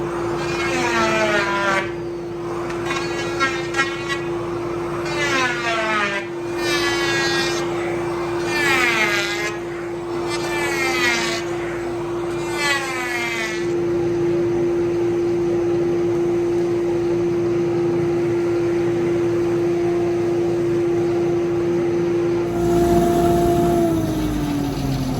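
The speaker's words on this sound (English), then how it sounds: "we're gonna try to plane the top and see how well we can get it" A power planer runs over a reclaimed lumber workbench top, giving a steady loud whine with broad cutting noise that holds for about 25 seconds and shifts in pitch near the end.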